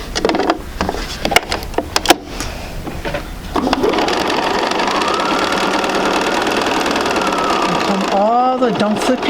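A sewing machine stitches a quarter inch seam on a quilting block, starting after a few knocks and handling sounds and then running in a steady, close, continuous whir for several seconds.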